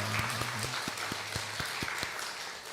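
Congregation applause at a Sunday church service welcoming a first-time visitor, a steady wash of many hands clapping at moderate level with a faint voice or low tone underneath.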